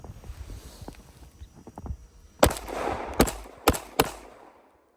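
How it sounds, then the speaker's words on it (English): A gun being test-fired without a target, shot after shot. Four or five loud, sharp reports ring out close by in the second half, spaced irregularly, after quieter handling noises, with no talking. "So we're gonna go ahead and put these first 2 or 3 mags through here, see how this thing runs."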